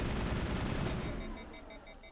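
Weapon fire in Mass Effect, a dense rapid burst of shots lasting about a second, then tapering off into faint electronic beeps as the gun cools.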